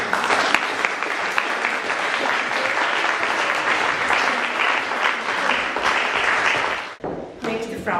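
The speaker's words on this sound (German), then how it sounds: "sagen wir viele Applaus" Warm audience applause at a women's association general assembly, a full room clapping steadily before it cuts off abruptly near the end, followed by faint murmuring.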